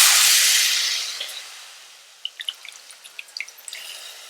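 Tamarind water pours into a pan of kara kuzhambu cooking in oil with spice powder: a loud sizzling rush at first that fades, followed by scattered crackles and bubbling drips.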